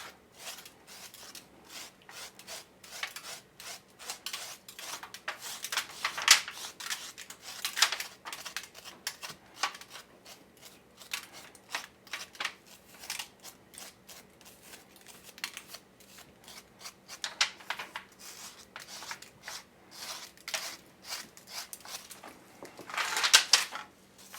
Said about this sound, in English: Scrape it real good with that knife.